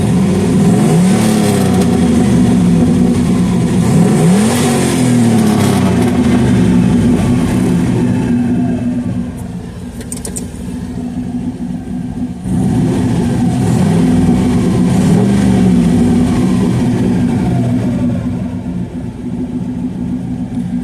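An LS-swapped Ford Mustang's V8 idles roughly and lean, then revs up and settles back in repeated loud swells, heard close and alone without talk.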